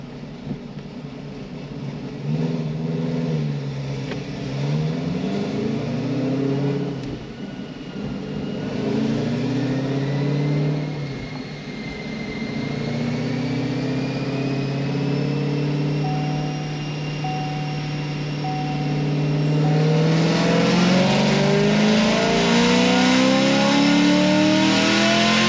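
Naturally aspirated LT1 Camaro making about 600 rear-wheel horsepower revving on a dyno, the engine rising and falling through several swells before a long, loud pull that climbs steadily to a high-pitched peak.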